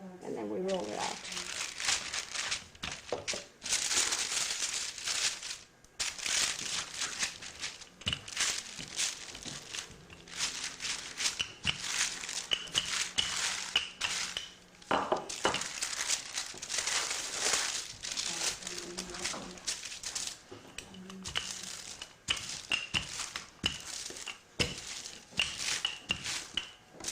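Wax paper sheets crinkle and crackle continuously as a rolling pin presses homemade apple turnover dough between them, the papery rustling loud and close and coming in repeated bursts, with a voice talking over part of it.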